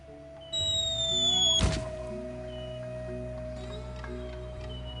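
A boulder rolling and dropping in the Escape from Monkey Island video game, one heavy thunk against a steady droning game background, with no talk.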